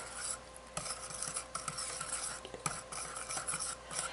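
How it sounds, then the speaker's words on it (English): A whisk beats pumpkin pie filling mixed with ginger, nutmeg and cornstarch in a bowl or pot, producing a quick, continuous scratchy rhythm of wire strokes with occasional sharper knocks against the side. "Now, I'm going to whisk it up here."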